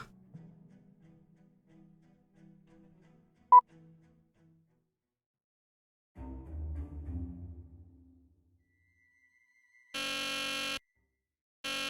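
An alarm buzzer goes off in the Nancy Drew: The Deadly Device video game as two loud, flat electronic bursts near the end, after quieter game sounds and a brief sharp click.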